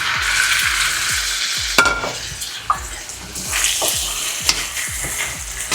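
Chicken returned to a pan of sautéed tomato paste for chicken afritada sizzles steadily and loudly, with a spoon scraping and clinking against the pan a few times as it is stirred.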